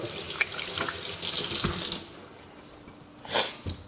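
A sink tap runs as hands are washed after cleaning a muzzleloader rifle, steady splashing water close by that eases and then resumes briefly, with no talking.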